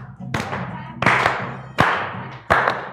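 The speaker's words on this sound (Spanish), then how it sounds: "vamos a terminar aplaudiendo como al principio" Group hand clapping in a static gymnastics exercise class: four loud, sharp claps spaced roughly evenly, with an instructor talking faintly in the background.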